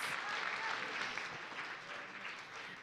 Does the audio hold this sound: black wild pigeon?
no